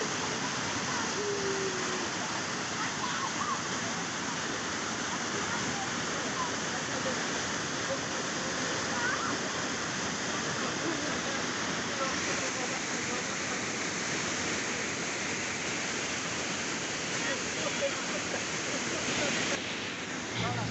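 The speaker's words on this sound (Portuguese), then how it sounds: "Ele viu algumas pessoas entrando por trás da cachoeira e pediu pra ir também." A waterfall at ASFRAMA off the BR-174 highway in Brazil, with people going behind the falling water. It makes a steady, dense roar of pouring water that stays close and continuous from start to finish.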